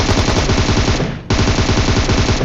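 Rapid automatic gunfire from the mobile battle royale game PUBG Mobile, loud and close, one sustained burst broken by a brief pause before the firing resumes.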